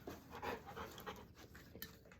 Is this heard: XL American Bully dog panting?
yes